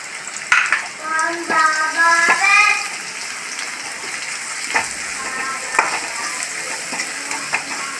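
Chilli flakes dropped into hot oil in a pan while cooking a Kerala-style cowpea stir-fry: a brief burst of crackling sizzle and stirring up front, settling into a quieter frying hiss with occasional clinks.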